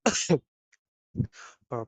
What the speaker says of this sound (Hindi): अभी अभी मुझे खांसी आई इसीलिए मैंने खांसा